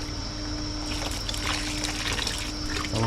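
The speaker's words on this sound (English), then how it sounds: "that's pretty hot water coming out of there" Hot water runs from a tap while a fermenter is cleaned on a home brew day, a steady trickling hiss with small splashes. It holds even and continuous throughout, with no voices.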